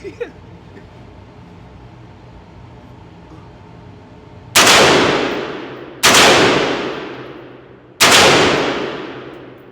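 An AR-15 rifle fires three loud, sharp shots outdoors, each several seconds apart, and each shot trails off into a long decaying echo. Faint low background noise comes before the first shot.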